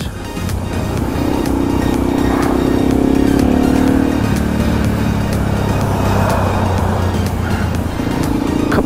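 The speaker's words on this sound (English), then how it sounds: "Couple of them there motorcycles here, eh?" Loud rumbling motorcycle engines idling and revving nearby at a market, a continuous throaty drone with shifting pitch and traffic noise around it.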